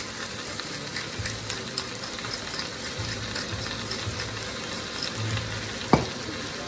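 Fresh spinach frying in a pan, a continuous close sizzle and crackle with faint stirring and a sharp clink near the end.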